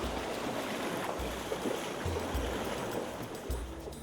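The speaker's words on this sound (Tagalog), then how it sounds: "medyo malakas pa rin yung current ng river" A knee-deep mountain river runs with a strong current, giving a steady rushing, washing roar close by with no voices.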